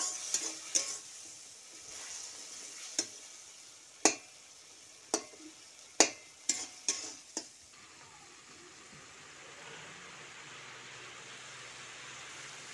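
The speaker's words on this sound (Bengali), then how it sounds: "চেরা কাঁচা লঙ্কা আর একটু লঙ্কা গুঁড়ি ভালো করে নেড়ে এটা ভালো করে মশলাটা তৈরি করে নেব" Spice masala with turmeric, slit green chillies and chilli powder frying in oil for a raw rohu mustard-oil curry, a faint steady sizzle punctuated by about a dozen sharp spatula taps and scrapes, thinning out toward the end.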